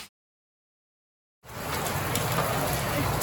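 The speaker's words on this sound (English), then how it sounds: "The audacity to rain during the rainy season." Nighttime rain falls on Stone Town, Zanzibar, during the rainy season, a dense, even hiss that cuts in after a moment of silence and holds steady and close.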